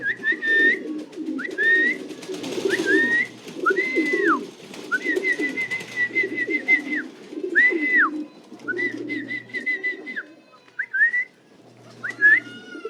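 Young racing pigeon, about four months old, arriving back at its loft during a training flight, cooing in soft repeated phrases under clear whistled bird calls nearby, with no talk.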